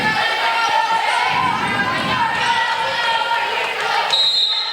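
A loud crowd in a gym at a girls volleyball game cheers and roars steadily throughout, with a commentator talking over the noise.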